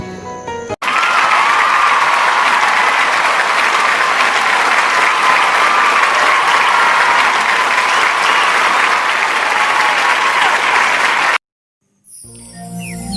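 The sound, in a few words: audience applause at an orchestra performance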